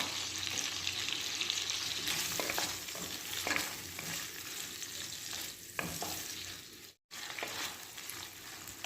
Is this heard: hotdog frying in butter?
yes